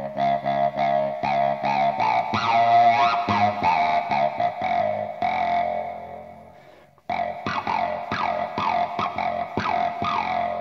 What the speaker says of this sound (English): we can assign things like instrument roll to distortion